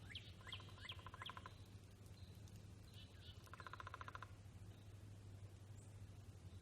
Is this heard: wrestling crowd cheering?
no